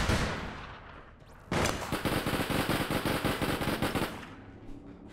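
Rapid automatic gunfire in the APB Reloaded shooter game, a sustained loud burst of evenly spaced shots lasting about two and a half seconds, followed by fading echoes and a few scattered later pops.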